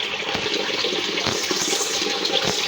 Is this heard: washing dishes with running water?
yes